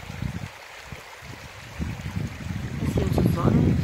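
Water babbling along a mountain stream during a bike tour, a low steady rush that grows fuller and louder toward the end, with some wind buffeting the microphone.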